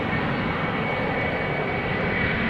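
An airplane at Amsterdam Schiphol Airport gives a steady, loud broadband engine roar that holds evenly throughout, with no voices over it.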